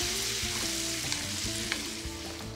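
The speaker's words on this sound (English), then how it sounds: "when they get hot, I'm gonna add our puree of tomatoes" Tomato puree frying in a hot pan, a steady, continuous sizzle with faint stirring scrapes, close and fairly quiet, with no voices.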